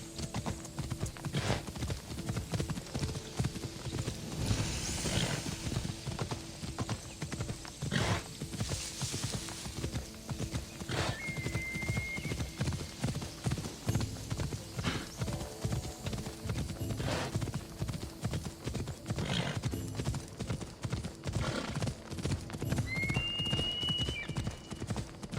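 Steady clip-clop of horse hooves while riding in the video game Assassin's Creed Odyssey, a continuous rhythmic trot that runs for the whole stretch, with game ambience and brief chirps over it and no talking.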